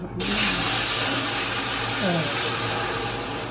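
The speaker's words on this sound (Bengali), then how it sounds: "আমি এদের ভিতরে কিছুই দিলাম না খালি পানি ঢেলে দিলাম" Water poured into hot oil with cumin seeds for biryani erupts into a loud, steady sizzling hiss close by, starting abruptly and continuing with only a slight fade.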